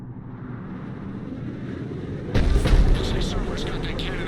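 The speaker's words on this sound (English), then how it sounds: "Say Cerberus got that cannon operational, Commander." Cerberus cannon in the video game Mass Effect Legendary Edition, a sudden heavy booming blast cutting in over a low background rumble, followed by echoing crackles and rolling aftershocks.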